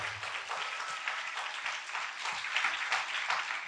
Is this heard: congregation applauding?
yes